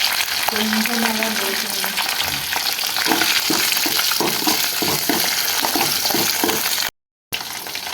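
Green chillies sizzle steadily in hot oil in a pan for a mushroom gravy, with spatula clicks and scrapes tapping through the frying and a voice speaking briefly over it, ending with a short silent gap.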